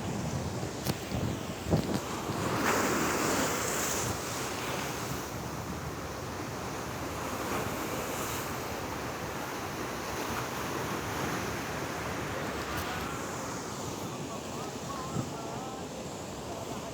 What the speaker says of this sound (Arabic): الموج يا جماعة رهيب النهاردة